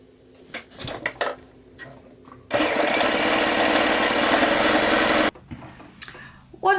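A sewing machine runs in one steady, loud burst stitching a pocket seam on a pair of joggers, the whirring lasting a few seconds between quieter handling clatter before and after.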